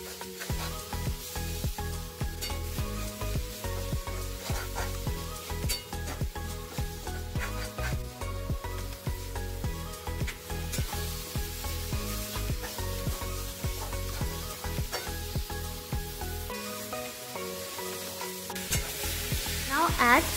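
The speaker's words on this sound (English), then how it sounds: "Now add onion and capsicum and cook it for 5 minutes." Onion and capsicum fry in a pan with ginger and garlic paste, a loud, continuous sizzle with rapid, repeated scraping strokes of a spatula stirring close up throughout.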